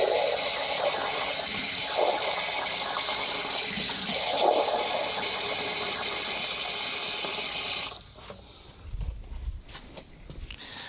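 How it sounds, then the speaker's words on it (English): Water gushes and splashes steadily into a container for several seconds, then stops, leaving faint clinks and rustling. "get some more water to pour in there"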